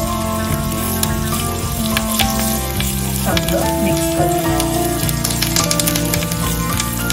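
Green chillies and curry leaves sizzle in hot oil for a Maharashtrian dadape pohe tempering, a steady close crackle that runs the whole time under background music and a brief spoken line.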